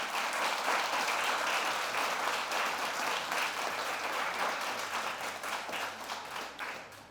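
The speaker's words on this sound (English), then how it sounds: "These nominees presented brilliantly on an international stage and deserve another round of applause." Applause from the audience at the Jamaica Observer Food Awards 2021 ceremony for the nominees, a sustained, fairly distant round of clapping that gradually thins and fades toward the end.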